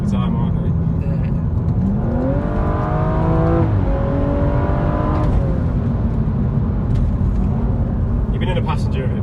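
A Stage 2 tuned BMW M135i with automatic gearbox pulls hard, its engine note climbing through the revs, then dropping with quick downshifts. The car is heard from inside the cabin, loud and close.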